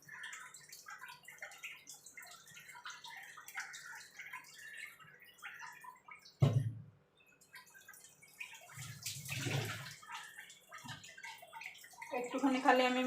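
Lemon juice poured into buttermilk for a chilled drink: a short splash, then a longer trickling pour a few seconds later, quiet and close, over faint background noise.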